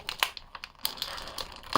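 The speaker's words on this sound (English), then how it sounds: "let's get the figure out of its plastic now" An Ultimate Edition WWE action figure is pulled free of its plastic packaging, giving quiet, close crinkling and crackling in short irregular bursts.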